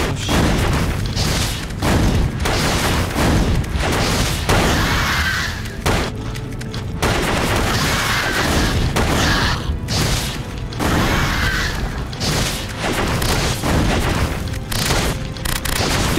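Explosive weapon fire in the game Alien Syndrome, heard as a dense run of loud booming blasts and crashing impacts that fill the whole stretch with only short gaps.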